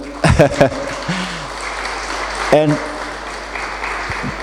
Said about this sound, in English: that applause is very well deserved